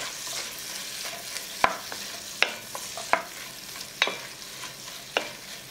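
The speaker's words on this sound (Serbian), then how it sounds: "Na istoj toj masnoći propržit ću praziluk, luk i 4 čena belog luka" Leek, onion and four garlic cloves fry in fat in a pan, sizzling softly and steadily while a spoon stirs and knocks against the pan several times, with no voices.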